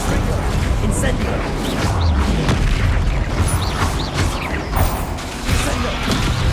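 An Incendio fire spell is cast in Hogwarts Legacy during a chaotic duel, its fiery bursts lost in a steady, loud mix of booms, crashes and whooshing magic, with voices shouting throughout.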